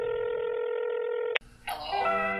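Telephone keypad dialing tones, a steady dual-tone beep for over a second, then a sharp break into shorter, brighter ringing tones as a call is placed to a friend; no talking.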